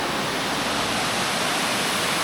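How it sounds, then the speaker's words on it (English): The Virivara waterfall in Munnar roars as a steady, dense rush of falling water, continuous and alone with no voices. "That's called Virivara waterfall."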